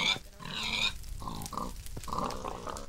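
Pigs grunting in the Minecraft video game inside a mob grinder where new pigs keep spawning, several short, close oinks and grunts one after another.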